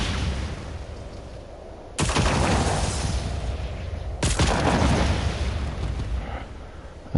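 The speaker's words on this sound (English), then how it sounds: "Just threw a grenade there." Two heavy grenade blasts in Just Cause 4 land a couple of seconds apart, each a sudden loud boom that rolls into a long rumbling decay, with no talking.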